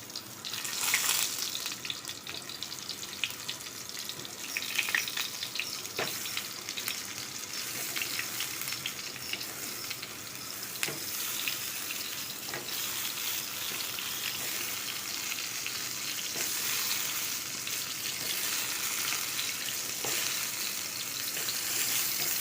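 Pointed gourd (potol) pieces fry in hot oil, a constant bright sizzle with spitting crackles and occasional stirring, steady and close throughout.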